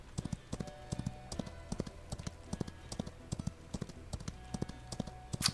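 Horse hooves clip-clopping in the Old West video game Outlaws of the Old West, a steady rhythmic stream of light, crisp hoof taps at riding pace, fairly quiet and even throughout with no talk.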